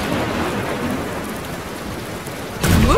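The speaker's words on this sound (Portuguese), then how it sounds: "Talvez a chuva não acabe antes que o primeiro galo cante." Steady rain pours in a cartoon scene, a dense hiss throughout that swells louder and brighter near the end, with no talk.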